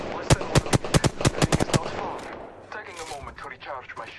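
Rapid gunfire in the Apex Legends video game, a burst of about a dozen sharp, loud shots in quick rhythm, then quieter scattered game noise while a player talks over it.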